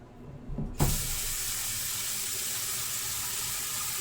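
A kitchen tap turns on and runs water steadily into a glass, a soft clatter at the start giving way to a continuous, fairly loud hiss of flowing water with no talking.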